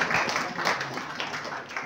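An audience claps at a pigeon flying tournament prize ceremony, a steady, moderately loud patter of hands lasting about two seconds with crowd murmur mixed in.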